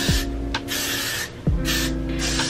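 Hair spray misted onto freshly curled hair of a wig, a few short hissing bursts close to the mic over steady background noise.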